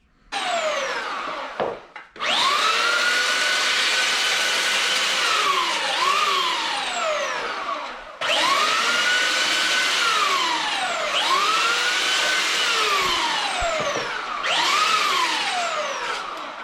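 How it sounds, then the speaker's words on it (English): A power sander works the edges of a homemade wooden frame for a painting, a loud close whine that spins up, bogs and rises again in long passes, with short pauses between runs. "I think I might run the sander on here just to get rid of any of the edges first."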